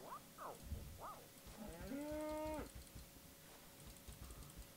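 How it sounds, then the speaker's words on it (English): A Minecraft cow lets out one drawn-out, mid-pitched moo in a game world, with a few short tonal bleats before it and a faint steady hum underneath. "That's a cow over there"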